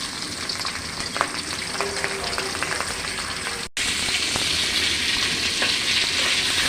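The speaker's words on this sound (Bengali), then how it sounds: "প্রত্যেকটি মাছ এইভাবে ভেজে নেব।" Rohu fish pieces fry in hot oil, giving a steady, dense sizzle with a few light clicks and crackles, close and continuous throughout with a brief cut midway.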